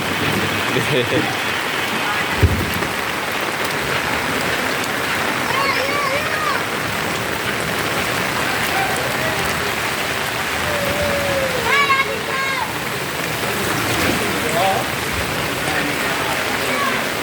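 Heavy rain pours onto a road in a dense, unbroken roar, with splashing and distant voices faintly audible beneath the downpour.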